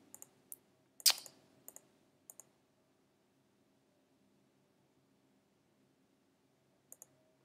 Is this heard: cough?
no